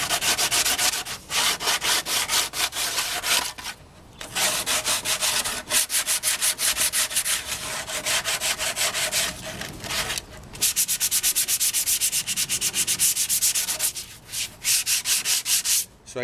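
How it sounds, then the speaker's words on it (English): Hand sanding with adhesive sanding discs on a classic Honda roadracer during restoration: steady, close rasping strokes in repeated bursts with brief pauses, loud and continuous with no voices. "you get a really good use out of the sanding discs once they start to deteriorate"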